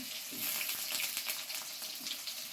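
Potatoes frying in a pan for a home-cooked Bengali breakfast daliya, a steady hissing sizzle of hot oil with faint crackles, soft and close.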